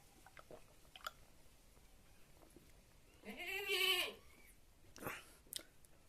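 Goats feeding on leaves in a yard, with faint nibbling and rustling, one loud drawn-out bleat in the middle and a shorter call shortly after.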